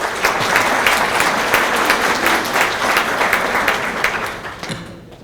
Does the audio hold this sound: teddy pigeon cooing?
no